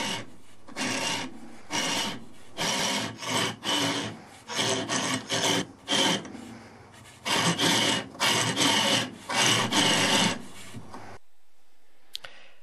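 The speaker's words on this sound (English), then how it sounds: "repositioning the chisel in different positions to" A chisel scraping and truing the rim of a shed-built beam engine flywheel, heard as repeated rasping strokes in bursts of about a second, close and fairly loud, ending in a brief silence.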